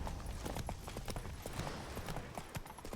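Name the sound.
horse Roach's hooves trotting, from video game The Witcher 3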